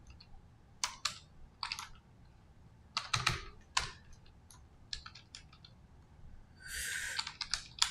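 Typing on a computer keyboard while notes are written out during a trading session, with bursts of crisp, close key clicks and a brief run of faster rattling near the end, all without speech.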